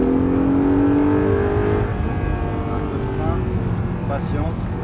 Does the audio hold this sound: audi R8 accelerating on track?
yes